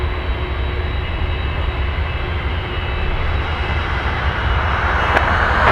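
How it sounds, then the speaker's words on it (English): An Everts Air Cargo MD-83 jet taxiing at about 9 knots gives a steady, fairly close engine whine and rumble that swells slightly toward the end, with no talk. "Everett's Air Cargo MD-83 taxiing at 9 knots"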